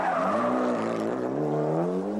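A Mitsubishi rally car from the 1995 World Rally Championship is driven fast on tarmac by Mäkinen, its engine a loud, continuous high-revving howl whose pitch climbs and dips as it runs close.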